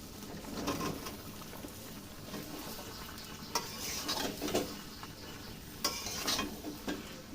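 Pointed gourd and potato pieces go into a pan with prawns already cooking. A soft sizzle runs underneath several sharp knocks and stirring clatters against the pan.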